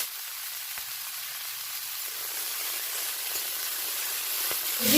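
Chopped vegetables sizzling in mustard oil, a steady close hiss that grows slightly louder, with a few faint clinks and no voices.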